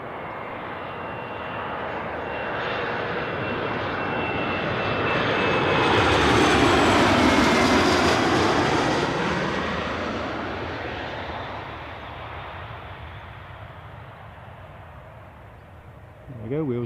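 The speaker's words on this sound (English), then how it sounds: "I can hear our Loganair arrival." A Loganair passenger aircraft lands at Newcastle airport, its engine roar building from a distance to a loud, close pass around the middle and then fading away, with a brief thump at the end.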